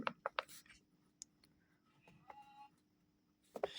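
Physics equations written by hand, a few sharp pen or chalk strokes and taps scattered across quiet pauses, close and fairly faint, with no voices.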